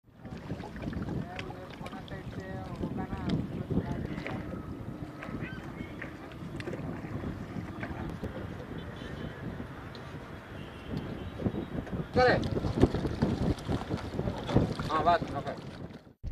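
A shark-shaped tourist boat motors across the lake at Ukkadam boat house, its steady engine hum mixed with wind buffeting the microphone, while people talk over it.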